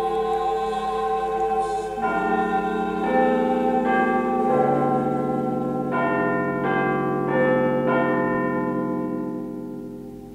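Church bells peal together in a layered, sustained ringing with new strikes entering every second or so, moderately loud and steady over about ten seconds.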